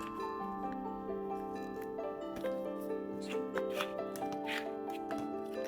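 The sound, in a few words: paper being folded for an origami magic box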